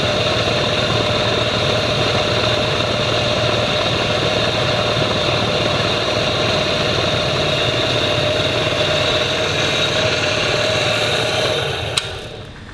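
An MG engine runs steadily with its gearbox in overdrive, a loud, sustained droning hum with a whine on top that holds level before tapering off near the end.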